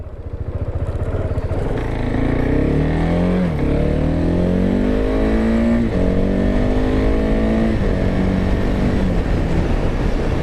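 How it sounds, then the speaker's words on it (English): A KTM Duke 690 motorcycle with its stock exhaust, heard while riding as a loud, steady engine drone whose pitch sweeps up and down with throttle and gear changes, close and continuous, with wind noise and no talk. "this stock exhaust just purrs. It's very quiet"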